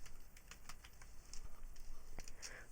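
Fingers tap out short bursts on a computer keyboard, quiet, close clicks in an uneven rhythm.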